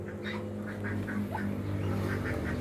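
Muscovy ducks in a small backyard farm give a run of soft, repeated quacks and hisses, fairly close, over a steady low hum of background noise.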